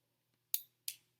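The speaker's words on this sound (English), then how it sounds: "make sure you cut the string there" Scissors snip thread after sewing a pee pad, giving two quick, crisp cuts close up in an otherwise silent room.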